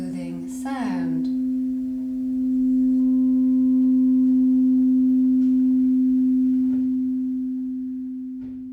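A steady, pure ringing tone from a large C crystal singing bowl holds for several seconds and slowly softens, with faint clinks and rustles near the start.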